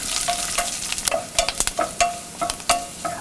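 Onions, dried red chillies and curry leaves sauté in a pan for coconut chutney, a soft sizzle under irregular scraping and clinking strokes of a stirring spoon, close and alone.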